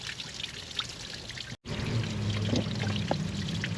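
Water pours steadily out of a drain line during a flush on a 2004 Subaru Impreza, a continuous splashing trickle with a brief dropout midway, then resuming as a fuller, steady stream.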